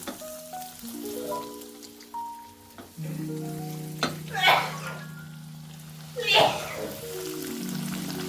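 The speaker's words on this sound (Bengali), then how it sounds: "তেল গরম হয়ে গেছে, এবার আমি একে একে ছেড়ে দিচ্ছি।" Breaded chicken rolls are lowered one by one into hot oil, and a sizzling crackle rises in two bursts over a steady background. Music plays throughout and nearly buries the frying.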